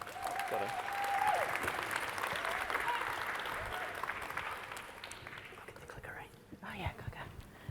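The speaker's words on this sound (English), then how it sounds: "round of applause as they come up on stage" Conference audience applauding as a youth team walks onto the stage at a systems change session, sustained clapping from a crowd that slowly fades away, with faint voices and a brief tone near the start.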